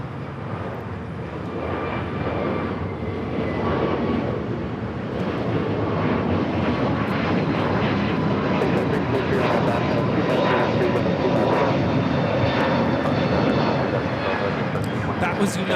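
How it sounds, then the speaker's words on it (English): United Airlines Airbus A321neo taking off from LAX bound for Chicago, a sustained loud jet engine roar that builds slightly over time, with people talking over the noise. "United Airlines 2615 taking off to Chicago on the A321neo"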